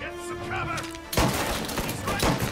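Gunfire, including a shotgun blast, erupts in Mafia Definitive Edition after a humming lull, with a sharp loud burst followed by several more booming shots.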